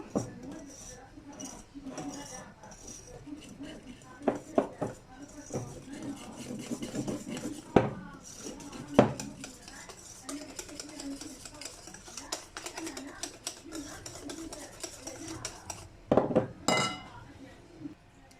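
Cocoa and other ingredients being stirred in a bowl, a spoon or whisk scraping and clinking against the sides in irregular bursts, with a few sharper knocks standing out.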